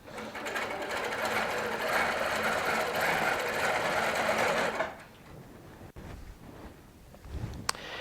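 A Baby Lock sewing machine quilting handmade cording down with a couching foot runs in a fast, steady whir for about five seconds, then stops, leaving quiet handling sounds and a couple of sharp clicks.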